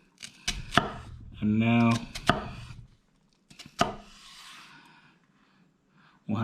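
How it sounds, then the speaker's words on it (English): A kitchen knife chops an onion into medium half-inch dice on a cutting board, giving sharp, close taps and a scraping sweep, with someone talking briefly between the cuts. "the goal will be to follow the shape of the onion, and every 1/2 inch do a cut"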